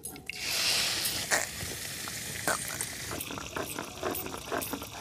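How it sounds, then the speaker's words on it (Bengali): Mustard oil hits a hot wok and sizzles, a steady broadband hiss from the start with a few sharper pops and crackles scattered across the seconds. "এবার কড়ার মধ্যে সরিষার তেল দিয়ে দেবো"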